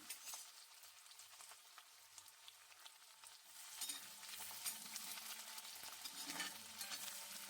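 Onions and a piece of cinnamon fry in hot oil in a wok, a soft crackling sizzle that grows fuller and louder partway through, with faint stirring scrapes, no voices.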